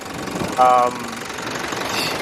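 A 2015 Toyota Prado GX-L diesel clatters at idle, a low rough knocking rumble running under a voice, with a brief tonal chime partway through.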